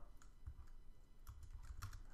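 Soft keyboard typing in short bursts of clicks, with a quiet pause in between; no voices.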